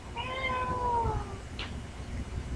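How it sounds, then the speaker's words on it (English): A house cat lets out one drawn-out, wavering meow that slides downward, close and clear, followed by a brief small rustle against a low background hum. "my cat's bothering me"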